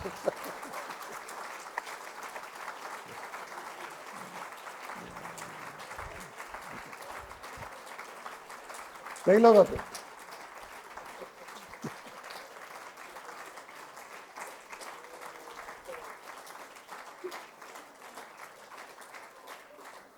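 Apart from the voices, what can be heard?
audience applause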